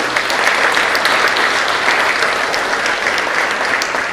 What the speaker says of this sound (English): let's give him a nice round of applause in his absence